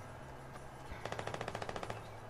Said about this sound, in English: There's definitely some gunshots.